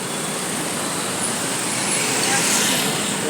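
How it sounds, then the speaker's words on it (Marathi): Congested road traffic from a full jam on a city street where smart city works have narrowed the route, a steady broadband roadway roar of idling and creeping cars, buses and trucks with a voice faintly mixed in. "कंप्लीट फूल ट्राफीक जाम आता तें पे तुम्हें पोव शकता"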